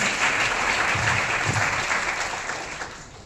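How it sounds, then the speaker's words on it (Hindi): A room full of people claps enthusiastically at a Sunday plan show event, a dense burst of applause that holds steady and then gradually fades out. "एक बार जोरदार तालियों से वेलकम करें"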